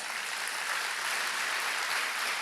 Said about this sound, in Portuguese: Vamos aplaudir essas mãos erguidas.